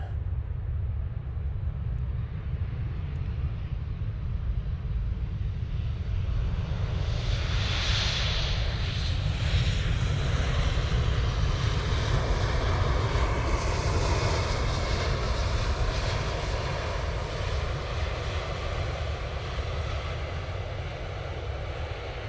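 An airliner lands at Manchester Airport, arriving from London, a steady engine roar with a rising then falling whine as it passes over a constant low rumble, with no voices.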